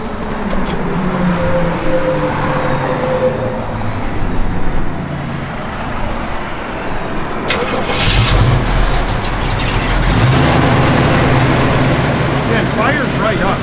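A 1974 Pontiac Firebird Formula 455 fires up with a crank and catch partway through, then settles into a loud, rumbling idle, with someone talking over the engine before and after.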